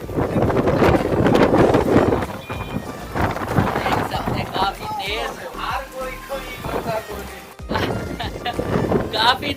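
Strong wind gusting through rain in Karachi, a loud continuous roar with rain noise that swells and dips, and people talking loudly over it throughout.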